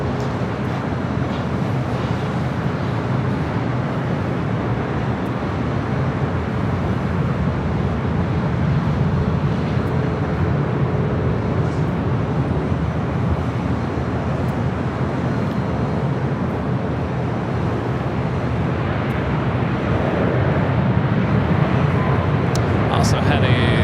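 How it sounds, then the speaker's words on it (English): An Air Canada airliner bound for Vancouver takes off at Los Angeles airport, a broad steady jet roar that swells slowly across the whole stretch while someone talks over it. "Air Canada will be taking off to Vancouver"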